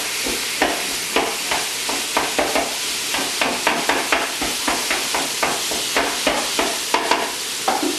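A pound of 85/15 ground beef fries and is broken apart in an electric skillet, with steady sizzling cut by repeated scraping and chopping strokes at a fairly even rhythm, close by and with no voices.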